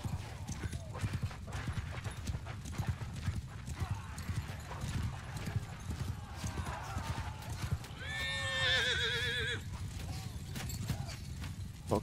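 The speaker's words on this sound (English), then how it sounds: "Horses." Horses in the Mount & Blade 2 video game, a dense battlefield clatter of galloping hooves throughout, with one loud neigh rising above the din toward the end.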